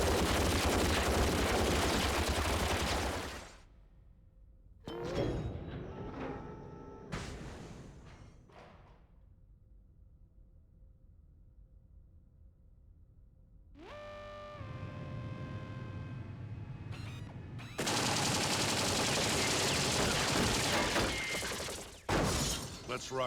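A Gatling gun firing in Ghost in the Shell: Stand Alone Complex on PS2, long loud sustained roaring bursts at the start and end, with mechanical spin-up whines and quieter game sounds between, and a voice speaking in between.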